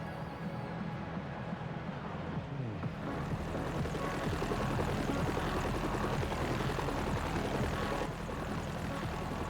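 Helicopter rotor and engine noise from the Forza Horizon racing game, a steady dense whir that swells slightly and holds loud and close throughout.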